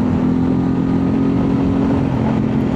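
Steady, loud engine drone from a Honda Transalp motorcycle running at cruise with the throttle held, a constant rumble close to the rider and no voices.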